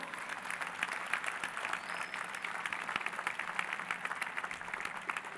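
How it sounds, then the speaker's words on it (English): Audience applause at the F1 in Schools World Finals 2014 awards celebration, a dense steady wash of many hands clapping throughout, moderately loud and continuous with no break. "Give yourselves a big round of applause."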